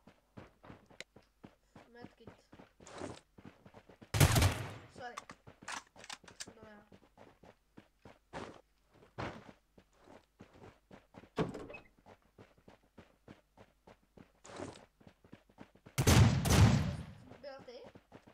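Airsoft guns fire in a game around a house, with short bursts of sharp shots near 4 seconds and again near 16 seconds, while people talk throughout.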